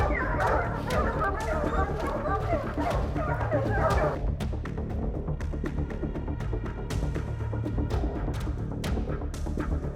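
Hunting dogs on a bear hunt bark and yip in sharp, repeated bursts over a constant outdoor rumble, some louder and some farther off, continuing for about ten seconds.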